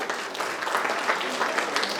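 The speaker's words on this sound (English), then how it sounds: "all of them deserve a huge round of applause" Audience applause for conference delegates at a model UN committee session, a dense, steady wash of clapping hands held at an even level for the full stretch with no clear voices.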